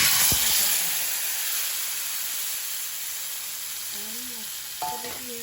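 Val beans hit hot oil with curry leaves and a pinch of turmeric, making a loud, bright hiss of frying close by that fades slightly, with a faint voice briefly near the end.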